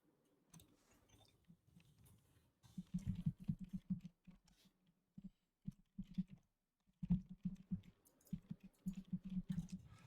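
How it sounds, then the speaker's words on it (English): Writers typing on keyboards at work nearby, a soft, faint patter of keystrokes in irregular bursts with brief pauses, heard close in a quiet room. "Yeah, typing away."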